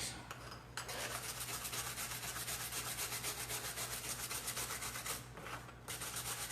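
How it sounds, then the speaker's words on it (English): Small wire brush scrubbed back and forth over the wooden body of a handmade hobo fiddle to work its finish, a close, harsh rasping scrape in steady strokes with brief pauses near the start and end. "I've got a little wire brush."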